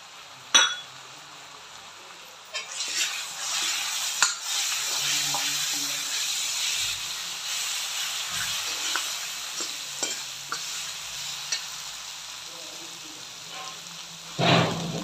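Bhatt black soybeans roast in a pan for a Kumaoni dal, giving a continuous dry sizzle with scraping stirs and occasional sharp clinks of a utensil against the pan, starting after a brief quiet opening.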